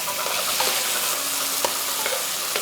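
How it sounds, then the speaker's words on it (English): Onions and peppers sizzle in a hot pan, a dense close frying hiss broken by a few sharp stirring scrapes. "We're gonna throw some onions in the pan."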